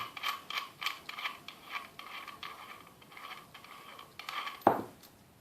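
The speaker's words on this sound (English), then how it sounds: "remove all the hardware on the back of the projector" Small metal hardware on the back of a motorcycle HID projector being unscrewed and removed, heard as a run of close, rhythmic ratcheting clicks and creaks, then a brief sharper metallic clink near the end, with no speech.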